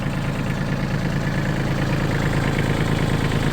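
A Branson 24-horsepower compact tractor engine idles steadily with a low, even rumble and faint vibration, running continuously throughout at a constant level.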